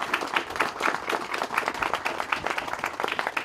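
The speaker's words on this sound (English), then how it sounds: "Give her a round of applause." A small crowd at a city public safety campus groundbreaking applauds the project manager under a tent, dense steady clapping lasting throughout at moderate level.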